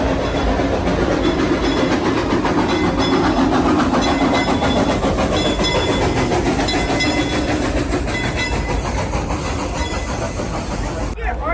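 Silver Dollar City theme park train rolling along, a loud continuous rumble with steady clickety-clack of wheels on rails and mechanical rattling, heard from on board the moving train.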